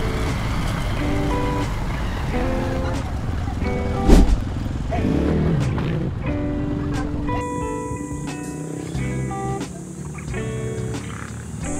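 A motorized tricycle climbs a hill road in Ilocos Norte, its engine droning steadily and close throughout, with a brief louder knock midway and faint background sounds.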